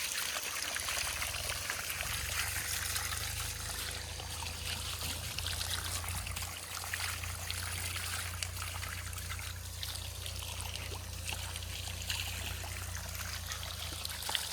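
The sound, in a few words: water poured while bathing a cow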